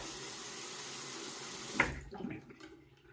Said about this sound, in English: I'll go ahead and let this water out of the basin